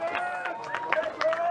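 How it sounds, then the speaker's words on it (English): Crowd at a rugby match between Elizabeth and Adelaide University clapping and cheering in a steady wash of applause, with a commentator's voice talking over it. "Round of applause from the men in red"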